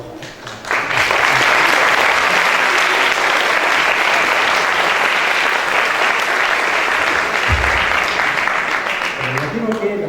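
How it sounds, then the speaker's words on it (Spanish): A room full of people at a university architecture student exhibition bursts into sustained applause, steady and loud for several seconds before easing off. "buen aplauso"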